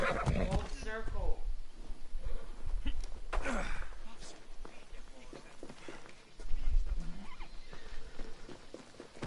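A horse in the Assassin's Creed Odyssey video game neighs and whinnies loudly near the start, with hoof clip-clops, snorts and further whinnies scattered across the scene under occasional speech.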